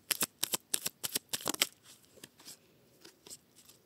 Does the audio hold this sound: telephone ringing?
no